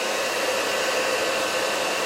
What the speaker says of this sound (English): but we're going to blow dry one more time.